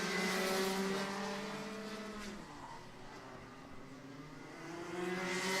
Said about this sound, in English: Engine will be sitting on the rev limiter as much as he can